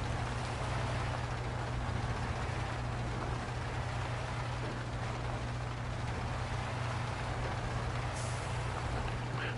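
A heavy truck in MudRunner, struggling along a slippery muddy track, gives a steady low engine drone that holds unchanged throughout, with no voices over it.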